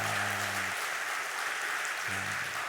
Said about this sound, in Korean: 우리 힘차게 박수 한번 하도록 하겠습니다.